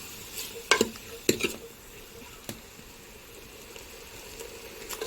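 Chicken being stirred in a pan for a tawa fry: a metal spoon scrapes and clanks against the pan in a few sharp bursts, with a low sizzle running underneath.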